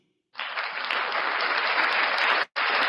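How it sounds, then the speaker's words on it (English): Applause for the French football club Paris Saint-Germain breaks out abruptly and stays dense and steady, cutting out for a split second near the end before resuming. "Let's make an applause for PSG."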